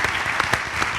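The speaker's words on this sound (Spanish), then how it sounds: "un aplauso para ellos, por favor." Audience applauding a band during an interview event, a short burst of close, continuous clapping with a few sharper individual claps.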